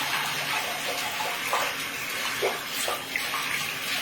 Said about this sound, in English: Sprayer in the shower would be great. You basically want to rinse it off